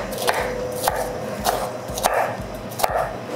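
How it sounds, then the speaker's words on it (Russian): Bell pepper being diced into cubes on a cutting board for chashushuli, a knife landing in about six steady, crisp close-up chops roughly every half second, with no talking. "Я нарежу кубиком."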